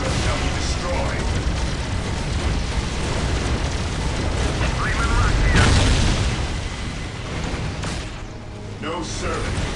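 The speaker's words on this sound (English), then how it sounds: "Taking heavy fire." Heavy weapons fire and explosions in Dawn of War rumble on without a break, a dense, loud barrage of booms and blasts with unit voices calling out over the battle.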